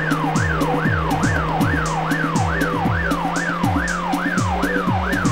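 A car siren in the video game The Getaway wails in a fast, regular rising-and-falling cycle, loud and close, over a pulsing electronic beat and engine hum, with no talking.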